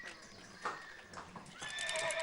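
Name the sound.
horses running and neighing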